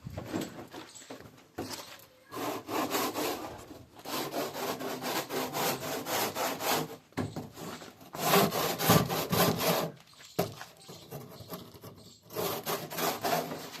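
A water tank being cut with a hand saw, steady back-and-forth strokes in long loud bursts separated by brief pauses, close and alone.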